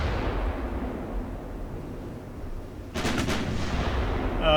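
Warship naval guns fire in the video game Ultimate Admiral Dreadnoughts, a sudden burst of sharp booms partway through over a low rumbling engine and sea drone, then another hit at the very end.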